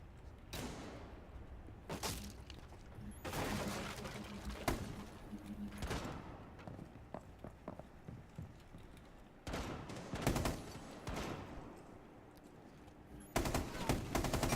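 Gunfire in the shooter game Rainbow Six Siege: repeated sharp bursts and single shots, some loud and close, some fainter, scattered unevenly through a cluttered game mix.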